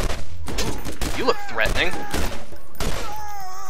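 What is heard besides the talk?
gunshots fired in the video game Borderlands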